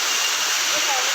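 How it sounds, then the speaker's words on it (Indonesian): Jumog waterfall on a river in Karanganyar, a dense continuous roar of falling water, loud and close, steady across the short stretch. "air terjun Jumok yang letaknya di Kali Karanganyar"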